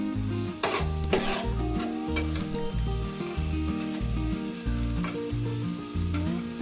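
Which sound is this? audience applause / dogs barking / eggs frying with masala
eggs frying with masala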